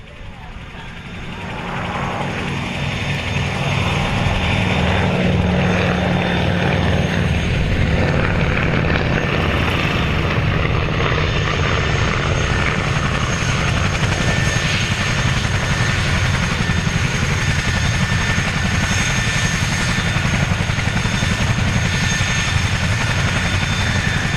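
Avro Anson Mk.1 twin-engine propeller aircraft flying a display at the Cosford Airshow, a steady loud drone of piston engines and propellers sustained throughout, with a voice talking over it.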